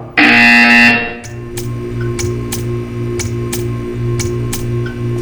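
A loud electronic buzzer blares once in the video game Portal 2, a harsh tone lasting about a second, followed by a steady hum with faint regular ticking clicks.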